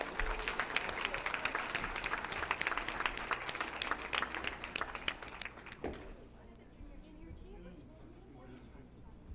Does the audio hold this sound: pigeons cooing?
no